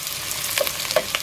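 Onion frying in a pan for pancit lomi, a close, continuous sizzle with faint stirring scrapes and small crackles, no voices over it.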